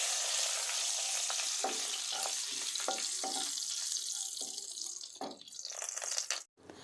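Whole dry red chillies, whole garam masala and bay leaves fry in hot oil for an egg curry, a continuous close sizzle with light stirring clicks that breaks off abruptly near the end.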